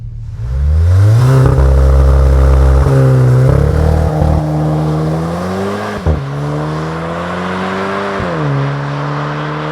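A VW Golf 8 GTI tuned with a RaceChip module to 300 hp accelerates hard from 100 to 200 km/h, its loud engine note climbing through several gears with brief dips at each shift, heard from inside without talking.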